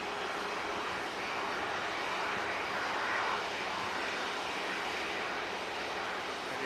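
A Lufthansa Airbus A321 bound for Frankfurt taxis at Manchester Airport, its engines giving a steady, broad whine and rumble that holds at an even level throughout, with no voices.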